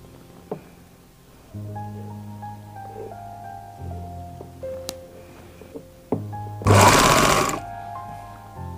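A sewing machine stitches a ladies' suit cuff sleeve in short bursts, quiet whirring runs close by, ending in a louder, faster burst of stitching.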